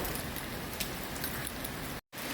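Steady rain falls in an outdoor setting, a dense, even hiss with faint scattered drops that continues unbroken before a brief drop-out near the end, with no voices.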